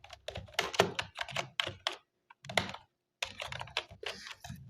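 Computer keyboard keys are typed in quick bursts of clicks while text is entered on a PowerPoint slide, close and clear, with one brief pause mid-way and no talking.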